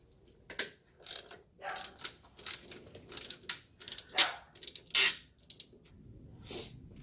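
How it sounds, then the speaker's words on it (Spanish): Ratchet or hand tool backing out four screws from the throttle body of a Mazda 3, with irregular close bursts of clicking and rattling spread across several seconds, no voice. "Aquí quitamos los cuatro tornillos."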